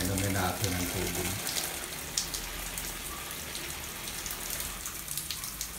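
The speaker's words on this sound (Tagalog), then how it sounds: "Painumin natin ang tubig." Water poured onto cucumber plants on a small farm in cool weather, a steady broadband splashing and trickling hiss lasting throughout, fairly close, with faint voices in the background.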